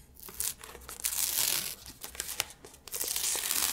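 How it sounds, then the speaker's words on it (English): Adhesive heart sticker peeled slowly off its backing sheet for a Valentine's craft, a close, crisp crinkling and tearing rasp with a few sharper snaps, no talking. "Just going to peel this off."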